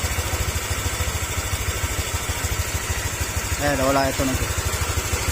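A Honda Click 125 v2 scooter engine idles close by with a steady, even rapid thump, and someone speaks briefly over it near the end.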